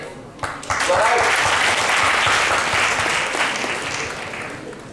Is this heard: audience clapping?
yes